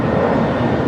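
An airliner taxis toward the gates on the south side of Los Angeles International Airport, a steady broad jet engine roar heard continuously for a brief moment.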